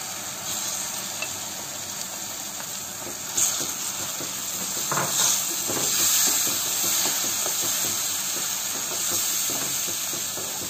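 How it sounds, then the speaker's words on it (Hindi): Fresh tomato paste hits hot cooking masala in a pan for a black-eyed bean curry, giving a continuous loud hissing sizzle with faint stirring, no voices. "अब इस स्टेज पे हम इसमें डाल देंगे जो हमने फ्रेश टमाटर का पेस्ट बना के रखा हुआ है"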